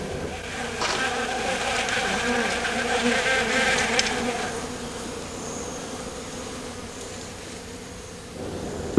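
Bees buzz steadily around a hive in a forest, a dense, continuous hum that is fairly soft and swells slightly in the first half before settling.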